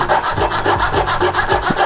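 Blade modifier pad rubbed steadily back and forth across a blade, giving a repeated rasping, scraping grind close up with an even rhythm, no voices.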